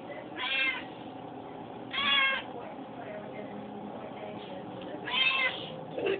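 A kitten meows three times, close and clear, with a few seconds between each cry over a steady low background hum.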